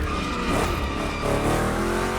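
Chevy big-block cars race in The Crew Motorfest video game, with loud, continuous engine roar and tire squeal over rough turns; dense, close and without talk.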